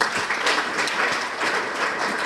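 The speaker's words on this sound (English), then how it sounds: "another round of applause." An audience claps steadily at a nursing orientation, a dense, continuous burst of applause from many hands in a hall.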